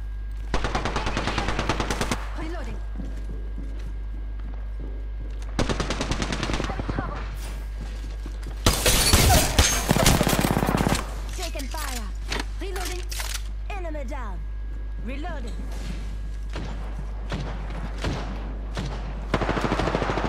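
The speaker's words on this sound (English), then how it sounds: "I shot you right in the fucking head." Gunfire in the video game Apex Legends: bursts of rapid automatic fire and single shots in clusters, loud and close with quieter stretches between, while players talk over it.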